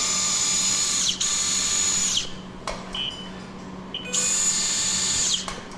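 A surgical power drill drives a wire into bone during minimally invasive bunion surgery, whining in two long high-pitched bursts separated by a pause with soft clicks, close and clear.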